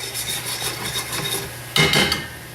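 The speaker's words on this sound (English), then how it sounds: "Okay, that's frying up really nice." Sauce ingredients with ketchup frying in a pan, giving a steady close sizzle with scraping and stirring rubs, briefly louder near the end; no talk.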